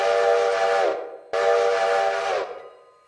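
Two long, loud blasts of a locomotive whistle in the Railroader video game, each sustained for about a second with a hissing edge, separated by a brief gap.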